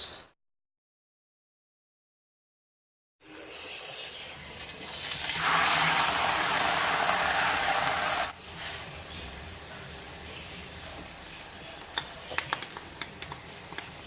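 Paratha frying on a griddle starts after about three seconds of silence as a steady sizzle, swelling into a louder, hissing burst mid-clip as it hits the hot surface, then settling into a softer continuous crackle.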